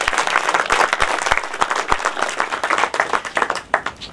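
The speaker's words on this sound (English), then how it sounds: "Really, they deserve a big round of applause" An audience applauds at the inauguration of a Czech film festival, with close, lively clapping where individual sharp claps stand out, and the applause thins and turns more scattered toward the end.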